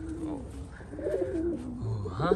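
Racing pigeons coo softly in low, rolling notes, a few calls close by over a quiet background.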